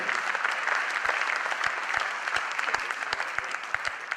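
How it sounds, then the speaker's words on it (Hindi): Steady applause from an audience at a business talk, a dense continuous patter of many hands clapping that holds at an even level throughout. "सबने तालियां बजाई हैं"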